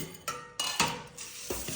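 Dishes being scrubbed in a home kitchen, a few clinking, scraping strokes of crockery and cutlery at close range, fairly quiet with short pauses between bursts.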